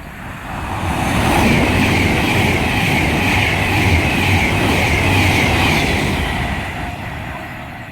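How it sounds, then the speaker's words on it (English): A Virgin Pendolino bound for Carlisle passes on the West Coast Main Line at Hartford, a broad rushing roar that swells and fades over several seconds. "the next train to approach is going to be a Virgin Pendolino bound for Carlisle"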